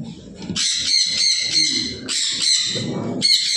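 Sun conure parrots kept at home give loud, harsh, shrill squawks in three repeated bursts, close by, with a faint voice murmuring underneath between calls.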